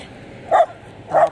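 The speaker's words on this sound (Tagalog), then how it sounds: "Tapang ng aso ko eh." A dog gives two short, sharp barks about half a second apart, close and fairly loud over a quiet outdoor background.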